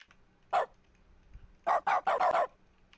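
Dog barking in the video game The Stanley Parable, one short bark followed a moment later by a quick run of four barks, close and clear with no talk.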